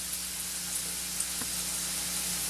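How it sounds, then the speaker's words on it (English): Coriander and other ground spices sizzle and toast in a hot pan, a steady close frying hiss running without a break, with a faint stir or tap near the middle. "We got enough sizzle there."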